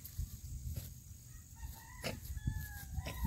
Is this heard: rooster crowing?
yes